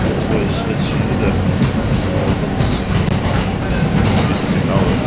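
A New York subway train rumbles past loudly and close, with steady clickety-clack of wheels on rails and a broad roar throughout, muffled voices faintly underneath.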